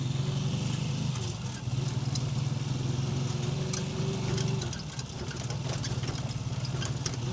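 A low motor tricycle in a Manila slum area runs with a steady chugging engine drone and rattling throughout the ride, close and continuous.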